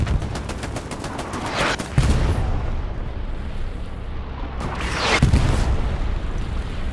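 Machine gun bursts from back-line MG positions in the Hell Let Loose WWII shooter, rapid rattling volleys with two heavier booming blasts over a constant roar of distant battlefield gunfire.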